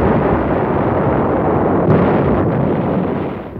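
Shore battery artillery fire and naval bombardment during the Inchon landing, a dense, continuous roar of blasts and rumble with a sharper burst near the middle, loud and sustained before easing off at the end.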